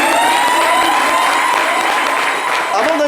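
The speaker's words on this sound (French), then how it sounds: "C'est un peu l'actualité du moment avec Pat Koyao que je vais vous demander d'applaudir encore une fois." A studio audience applauds the guest Pat Koyao on a French talk show, loud sustained clapping throughout with a crowd murmur beneath it.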